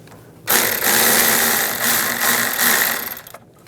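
A ratchet snugs a nut on the AC accumulator bracket of a 1999-2006 Chevrolet Silverado 1500, making a steady, close mechanical whirring and clicking run for about three seconds between brief quiet moments, with no talking.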